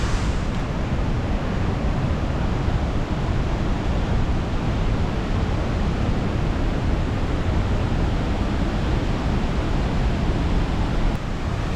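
Chilnualna Falls in Yosemite National Park, a steady, full roar of rushing water that holds at an even level from start to finish, with no one speaking.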